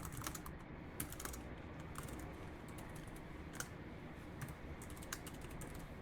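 Code being typed on a computer keyboard, quick irregular clusters of close, soft key clicks over a steady background hiss, with no talking.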